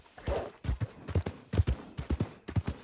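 Horse hooves clip-clopping in a video game, a steady walking rhythm of paired hoof strikes, fairly close and clear, with no talk over them.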